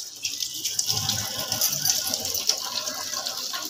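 Cleaned prawns being washed in water make close splashing and sloshing, a continuous wet rush with small swirling surges throughout.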